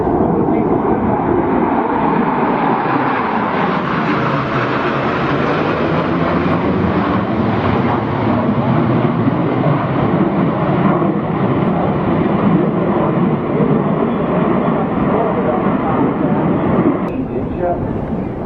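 F-14 Tomcat jets flying over an air show, a loud continuous roar of engine noise sustained throughout, with an announcer speaking over it.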